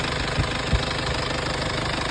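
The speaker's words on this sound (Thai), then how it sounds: "เครื่องยนต์เดินนิ่งๆเลยนะครับเครื่องยนต์เดินนิ่งๆครับ" Car engine idling smoothly, a close, steady low rumble with two brief knocks early on, heard alone without talk.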